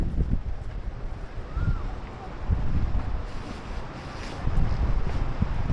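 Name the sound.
strong wind at beach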